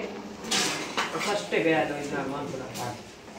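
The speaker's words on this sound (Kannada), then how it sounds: "ಈಗ ಇಡ್ಲಿ ತೆಗಿತಾ ಇದ್ದಾರೆ ಆಂಟಿ ನೋಡಿ" Dishes and steamer plates clatter in a home kitchen as steamed idli are lifted out, a few close metallic clinks and knocks scattered through the clip while voices talk over them.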